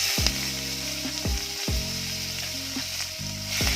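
Garlic and black pepper fry in a generous amount of oil for a spicy Bengali egg curry, producing a close, steady sizzle punctuated by several rhythmic spatula scrapes against the pan, with no voices.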